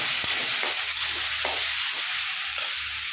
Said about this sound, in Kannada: ಟೊಮೊಟೊನ ಚೆನ್ನಾಗಿ ಹಾಕಿ ಫ್ರೈ ಮಾಡಬೇಕು